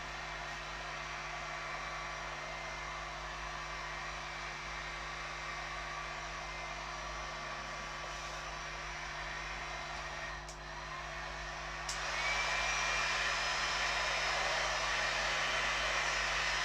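Heat gun or heater blowing to warm Autotech etch primer on a BSA Scrambler build, a steady loud airy roar that runs throughout and rises slightly louder toward the end.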